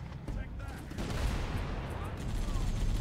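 A tank's gun in Halo fires a continuous stream of rapid shots in a dense, steady roar, with a voice faintly underneath.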